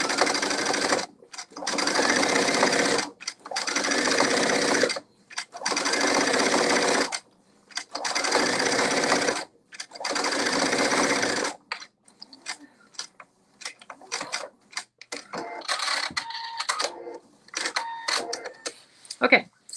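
A sewing machine top stitches a kimono seam in several loud, close bursts of rapid stitching separated by pauses, then gives way to softer clicks and handling noises near the end.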